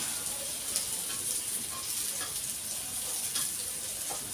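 Chicken frying in a pan in a workplace kitchen, a steady close sizzle and hiss running unbroken throughout with faint stirring clicks, no talk.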